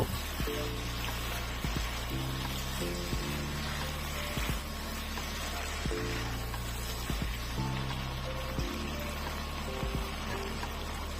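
Long-cut tomato slices frying in a pan while being stirred, a steady soft sizzle with scraping stir strokes over a constant low background hum, no voices.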